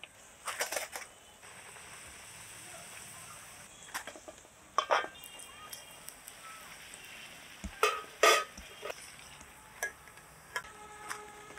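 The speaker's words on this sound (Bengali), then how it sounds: "দুই একটা মাঝে মধ্যে কড়া করে ভাজবো" Luchi fry crisp in hot mustard oil, with a soft, steady sizzle that stays in the background and is broken now and then by sharp clinks from a ladle against the pan. No one speaks.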